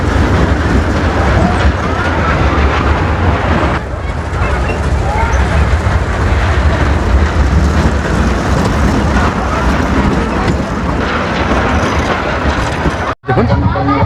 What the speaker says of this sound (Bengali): এখানে এগুলো চেয়ারে যে রাউন্ড হয় আর ট্রেনের মতো ঘুরে সেগুলো।